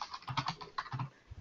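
Quick bursts of typing on a computer keyboard, close and soft, with irregular key clicks and no talking.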